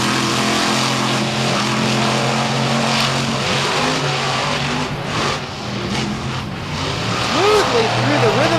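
Racing engines snarl at a beach track event with a steady, loud drone and rising, falling revs, as a commentator talks over the roar.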